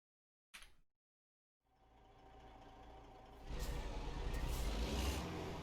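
Truck engine from American Truck Simulator running at a low, turned-down volume: a steady mechanical drone that begins after a short burst and silence, then swells louder for the final seconds.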